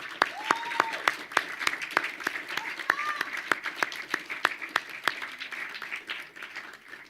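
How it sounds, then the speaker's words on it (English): Families are applauded at an MCAD winter commencement ceremony, with sparse, distinct nearby claps over a softer spread of clapping from the crowd and a few brief whoops mixed in. "Students, please give your family a round of applause"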